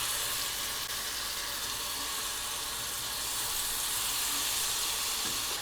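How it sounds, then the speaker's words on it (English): Hybrid striped bass fillets fry in butter with a steady, dense sizzle and hiss, close and even throughout, with no talking over it. "we'll let that fry for, again, probably a minute and a half"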